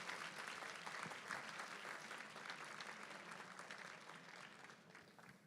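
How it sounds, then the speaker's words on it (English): An audience gives steady, sustained applause in a hall at a city pitch-competition event, clapping for the Lord Mayor of Norwich and fading slightly toward the end, with no voices over it. "can we all give him a round of applause and a thank you for coming to join us"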